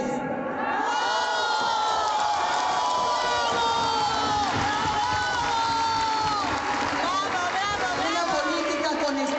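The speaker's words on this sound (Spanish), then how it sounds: "pedirles a todos ustedes un gran aplauso para otra gran mujer, para Beatriz Paredes" A large crowd cheers, whoops and applauds at a political event for Beatriz Paredes, a dense, steady roar of voices and clapping that stays loud throughout with many overlapping shouts.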